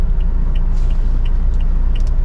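A 2017 Toyota Fortuner 2.8L turbocharged diesel with a manual gearbox runs with a steady low rumble, heard up close. Faint light ticks recur above the drone.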